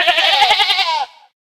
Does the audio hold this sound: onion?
no